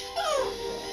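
A dog whimpers in the samurai action game Sengoku Basara Samurai Heroes, one short rising-then-falling whine heard up close over a steady background of game music.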